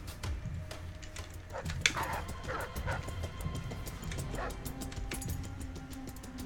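A dog in Dishonored: Death of the Outsider barks and yips in a few short, mid-distance bursts, with a low ambient game hum underneath.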